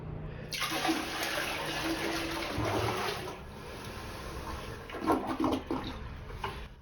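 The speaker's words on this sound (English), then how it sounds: "take that bucket again with like 2-3 gallons of water in there. And what you want to do is you want to fast pour it in there." Two to three gallons of water are poured fast from a bucket into the bowl of a slow-flushing toilet, giving a steady rushing gush that fades, then a brief gurgling surge as the trap drains, with no talking.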